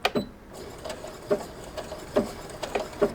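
A sewing machine ties off a knot on an appliqué with a short run of quiet, evenly spaced stitching clicks close by.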